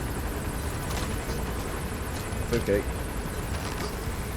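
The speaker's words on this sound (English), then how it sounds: "Oh no, the helicopter." Helicopter in Metal Gear Solid V: The Phantom Pain, a faint steady rotor drone in the game background while someone speaks briefly over it.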